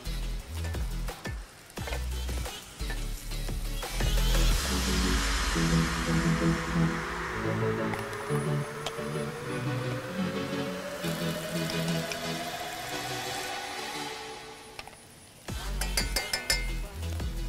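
Bay leaves, lime leaves and lemongrass sautéing in hot oil for Betawi nasi ulam: steady, loud sizzling and frying hiss fill most of the stretch, with utensil clinks and stirring scrapes near the start and end, no talk.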